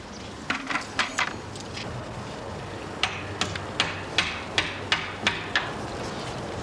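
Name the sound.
hammer falling down a shaft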